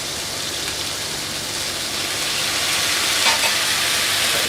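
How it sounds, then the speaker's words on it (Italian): Porcini mushrooms frying in a hot pan with a splash of oil and pasta water give a loud, steady hiss and crackle, close up, growing slightly stronger, with no voices. "Noi nel frattempo a padella calda andiamo a prendere i nostri funghi porcini"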